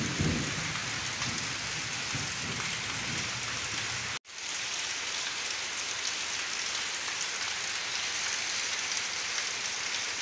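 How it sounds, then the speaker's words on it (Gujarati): Heavy rain pours down at a rural home, a loud, dense and steady roar that breaks off for a moment partway through, then resumes just as strongly. "વરસાદે ફૂલા ફૂલ આવે છે"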